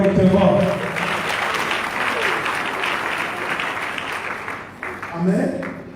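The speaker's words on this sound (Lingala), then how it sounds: "On acclame encore correctement." A church congregation at a night vigil service claps loudly and continuously, a dense wash of hands that dips briefly near the end before swelling again, with voices faintly audible at the start and close.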